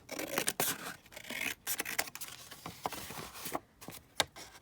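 Scissors trim down folds of material in a run of close, crisp snips and rustling scrapes, uneven in rhythm, with short pauses between cuts and no voices.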